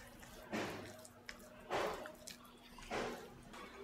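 Fish fry marinade paste being mixed with a spoonful of water, three soft wet squishing strokes at roughly one-second intervals, close and quiet against a low hum, no talking.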